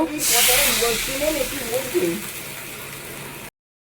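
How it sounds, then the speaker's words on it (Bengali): Water mixed with chilli powder, turmeric and salt hits a hot pan where cumin and green chillies are frying, bursting into a loud hissing spit that bubbles and slowly settles before cutting off. "আমরা লঙ্কা গুঁড়ো, হলুদ গুঁড়ো, নুন দিয়ে একটা জলের মধ্যে গুলে এই জলটা দিয়ে দেব"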